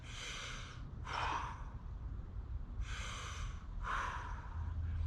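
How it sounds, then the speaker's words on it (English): Four deep breaths in and out, each a broad, airy whoosh lasting about a second, taken in a calm pause between exercises during a fitness workout, with no talking. "All right, everybody else, 2 deep breaths."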